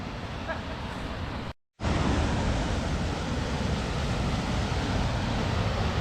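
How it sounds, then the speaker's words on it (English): A big waterfall in the Scottish outdoors, a broad, continuous roar of rushing water close by, briefly cut to silence then returning louder and steady. "We've made it up now to the big waterfall though."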